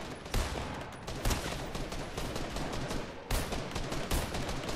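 Video game gunfire in a Fortnite battle royale match, dense overlapping bursts of rapid shots rattling continuously at moderate level, with a few sharper cracks standing out.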